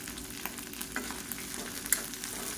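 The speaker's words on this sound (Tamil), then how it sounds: "இது வெங்காயம் பூண்டு எல்லாம் நல்லா வதங்கிடுச்சு." Onion and garlic sautéing in a pan for dosa chutney, a soft continuous sizzle with light stirring clicks, close and steady with no talking.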